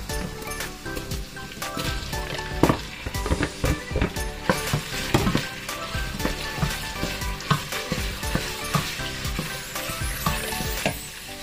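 Tofu sizzles and fries steadily in a pan as it cooks for pancit palabok, with dense crackling throughout and occasional stirring clatters, close and fairly loud, no talk.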